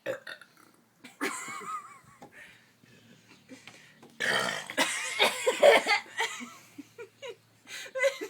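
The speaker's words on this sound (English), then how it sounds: "There's a lion burping." Several loud human burps, jokingly likened to a lion, erupt in bursts separated by pauses, mixed with giggling and laughter from people nearby.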